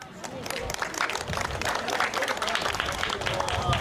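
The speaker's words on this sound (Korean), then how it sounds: "다시 한번 수상하여 큰 박수를 부탁드립니다." Audience applause at a civic award presentation in a Korean public park talk show, a dense, steady wash of many hands clapping throughout with voices faintly mixed in.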